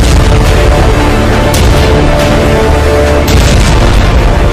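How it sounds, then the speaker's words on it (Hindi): Rocket explosions from Hezbollah strikes on Haifa during the Israel–Hezbollah war, heard as a loud, continuous rumbling boom with dense low roar and a few sharper bursts near the middle and end. "हिजबुल्लाह के रॉकेट धमाके हाइफा में हाहाकार मचा रहे हैं।"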